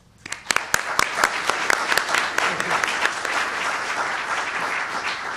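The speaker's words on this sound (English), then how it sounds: "please give a warm round of applause for President Skorton." Audience applause after a keynote speaker is introduced at a health care lecture: sharp, distinct claps at first, swelling quickly into dense, sustained clapping that fills the hall for several seconds.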